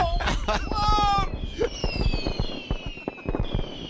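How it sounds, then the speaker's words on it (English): Fireworks going off in a quick cluster of sharp pops and crackles with whistling tones, fairly close and loud, followed by scattered bursts fading off. "thank God I didn't leave those fireworks in my underpants."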